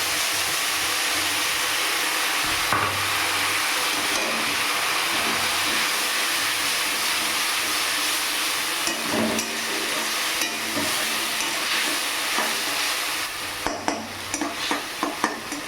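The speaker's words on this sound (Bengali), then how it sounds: "এবার এখানে বাকি মশলাগুলো দিচ্ছি" Spice paste with onion, garlic and ginger paste, plus green and dry chillies, sizzling and frying in oil for a doi katla curry, with steady close hiss and spatula scrapes stirring through it.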